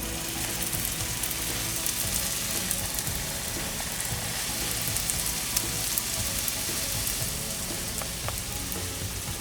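Sweet Korean hotteok pancakes sizzle steadily in hot oil in a pan while being flipped and pressed flat, a dense continuous crackle with small pops throughout and no voices.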